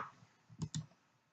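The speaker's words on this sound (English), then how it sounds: "you right click on it, Hello World folder" Two quick, crisp computer mouse clicks in a quiet room, close and distinct, from a right-click on a folder in a coding environment.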